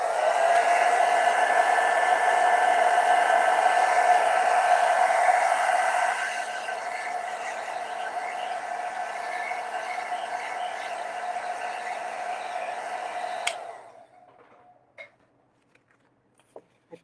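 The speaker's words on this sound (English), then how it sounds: "I'm going to use my blow dryer so I can dry this quickly" A blow dryer runs steadily for about thirteen seconds while drying watercolor paint on paper, a loud, close whooshing hum that drops to a lower setting partway through, then switches off, leaving a few faint clicks and rustles.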